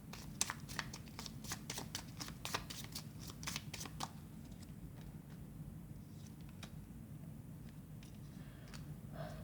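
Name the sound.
tarot cards being shuffled and drawn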